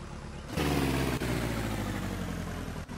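A Kawasaki Ninja motorcycle in the video game My Summer Car idles with a steady low engine hum that kicks in abruptly and holds at an even level, fairly quiet, with no talk.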